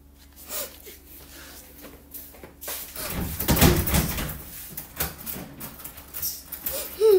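Someone knocks on a door and rattles it in a run of dull, uneven thumps and clatters that grow louder and busier toward the middle, with faint voices in the background.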